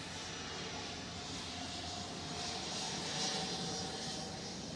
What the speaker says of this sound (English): Etihad is moving, or taxiing